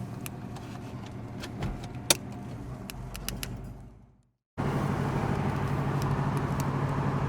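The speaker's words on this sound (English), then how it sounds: "Let's take it on a little drive and see how it runs out." A 1981 Chevrolet Camaro out on the road: a few scattered clicks and cabin rattles over a low drone, a brief drop to near silence, then steady, fairly loud driving and road noise to the end.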